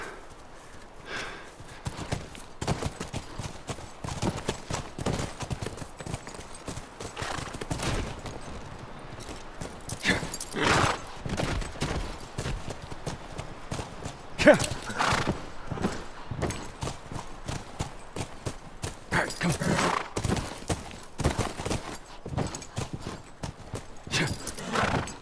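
In The Last of Us Remastered, rhythmic horse hoofbeats clip-clop at a steady trot, with occasional sharper cracks and bursts of gunfire mixed in; no talking.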